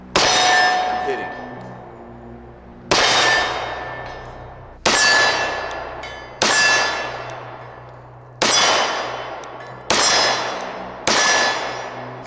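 Seven loud metallic clangs of 10mm rounds from a Tisas 1911 pistol striking a steel target, each ringing out and fading before the next, spaced one to two seconds apart.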